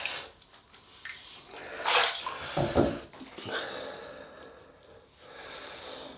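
Water splashes and runs as a badger shaving brush is rinsed and washed, a few louder sloshing bursts in the middle over a quiet, steady trickle.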